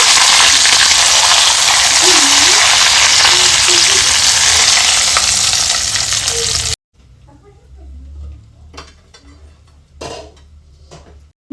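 A whole stuffed chicken deep-frying in oil gives a loud, steady sizzle for most of the stretch, then cuts off abruptly to a quiet kitchen with a few faint clinks and soft knocks.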